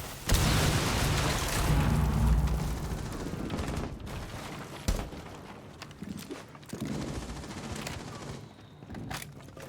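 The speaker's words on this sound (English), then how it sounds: "Frag grenade." A frag grenade detonates during a Rainbow Six Siege-style tactical shooter match on the Favela map, a loud broadband blast followed by scattered gunfire bursts and rumbling impacts over roughly ten seconds, no talk.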